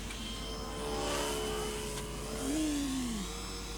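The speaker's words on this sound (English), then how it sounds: "Oh, there's a car coming." A car approaches on a road outdoors, its engine hum swelling slowly out of faint background noise with no one talking, while a small balsa model plane motor whines nearby.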